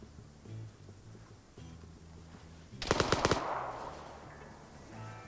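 A burst of rapid gunfire rings out in a military video game, a quick cluster of sharp shots standing out over a low steady background, with no talk.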